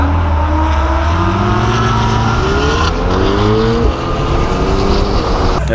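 A 2019 755 hp Chevrolet Corvette ZR1 and a 710 hp McLaren 720S launch in a roll race, engines roaring loud and close with rising revs and gear changes, a continuous wall of engine noise.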